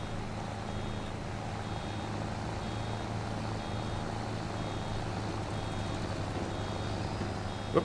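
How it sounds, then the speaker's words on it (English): In Farming Simulator 25, a baler's reversing beeper repeats steadily over the continuous drone of farm machinery working a winter wheat field, with no talking. "it's nice that the baler has a beeper on it. The problem is, it goes off so often"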